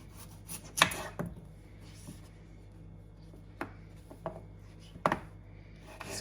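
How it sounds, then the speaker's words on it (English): A knife cuts vegetables into thin slices for pakora on a board, with a few sharp, faint chopping knocks spread out among quiet rubbing and scraping. "So I'm making them like thin slices like this."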